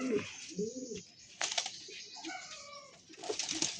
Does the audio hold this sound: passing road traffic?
no